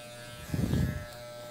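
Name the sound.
electric hair clipper shaving hair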